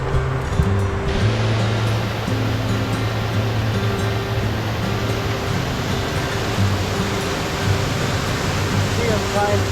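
Steady broadband rush of a river waterfall pouring continuously, loud and close with no pauses, filling the whole stretch as a dense outdoor water roar.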